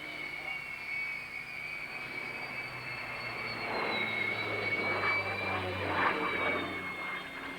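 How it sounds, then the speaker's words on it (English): A Fokker F-27M Friendship military transport in a flight display, its steady turboprop engine drone with a whining tone holding near and moderately loud, swelling slightly midway through. "a military transport and maritime version of the Fokker Friendship airliner"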